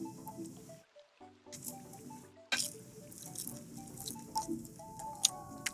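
Rain pattering steadily in the Blue Archive video game, with a dense wash of drops under soft game music and occasional sharper splashes.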